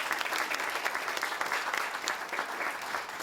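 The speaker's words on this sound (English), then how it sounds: "Give them a big round of applause." An audience at a chamber of commerce legislative breakfast applauds in a steady, dense wave of clapping that fills the room, with faint crowd murmur and no distinct voices.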